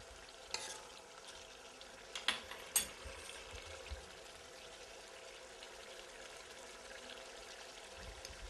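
Soft, steady sizzling of roughly cut potatoes frying in a pan, with a few sharper clinks and scrapes early on, no voices.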